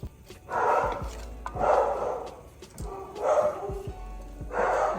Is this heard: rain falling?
no